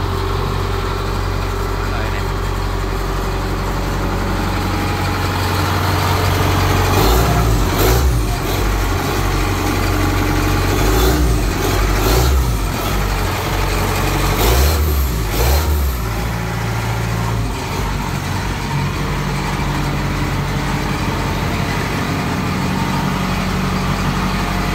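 The heavy diesel engine of a combine harvester runs steadily nearby, rising in a few revs, while people talk over it.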